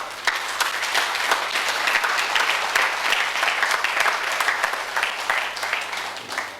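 A church congregation breaks into loud, dense applause that fills the space steadily from start to finish, many hands clapping together close by with no talking over it.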